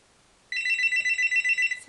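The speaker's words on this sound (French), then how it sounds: "Alors, je vais attendre la deuxième sonnerie." A telephone starts ringing after a short silence with one bright, rapidly trilling electronic ring that lasts just over a second, close and loud, with no voices.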